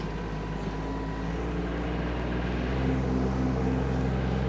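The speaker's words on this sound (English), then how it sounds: "Nice Yanmar engine." A Kymron ZX22D mini excavator with its Yanmar engine running, a steady low diesel drone with constant mechanical hum, close and even throughout with no speech.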